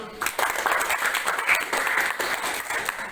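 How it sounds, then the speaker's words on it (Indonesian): A classroom group of students applauds a presenting group, brisk close clapping that runs steadily from start to finish, with voices faintly mixed in. "Kasih aplaus dulu untuk kelompok 1."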